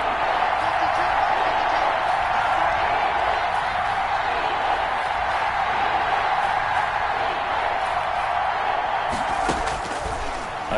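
A football stadium crowd roars steadily ahead of a big third down, a dense, sustained wall of cheering that holds loud throughout and dips slightly near the end.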